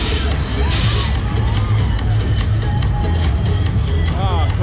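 Crowd cheering, whooping and screaming at a fairground ride at St Giles' Fair in Oxford, a loud continuous roar of many voices over low mechanical rumble and music.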